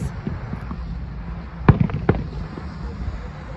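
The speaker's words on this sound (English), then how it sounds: "fireworks." Fireworks burst during Canada's display at a rainy outdoor fireworks competition, a few sharp booms clustered in the middle, moderately distant over crowd murmur.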